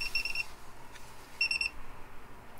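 Two short bursts of rapid electronic beeping from a camper van tilt gauge, high-pitched and fairly close, separated by a brief pause against quiet background noise.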